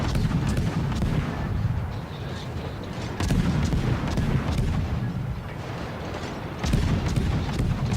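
Warships trade naval gunfire in a video game, heavy booming salvos rumbling continuously with a few sharper blasts breaking through, loud and dense with no pauses.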